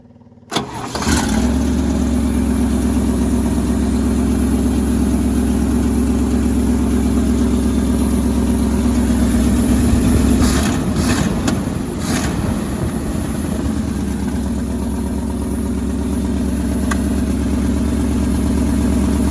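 A 1963 International Loadstar 1800 truck engine cranks and catches within a second, then settles into a loud, steady, rumbling idle that continues throughout, with a few brief clanks partway through.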